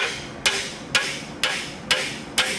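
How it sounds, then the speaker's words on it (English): A hammer taps the lower ball joint of a 2006 Chrysler 300 back into place during replacement, five sharp metallic taps spaced evenly about half a second apart, close and clear with no talking. "Basically just tap that again a few times with the hammer."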